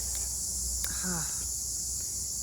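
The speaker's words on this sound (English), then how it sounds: "So it's really early in the morning, and the cicadas are" A constant high, shrill droning of cicadas on an early, hot and humid August morning in a garden runs throughout, with a short murmured voice partway through.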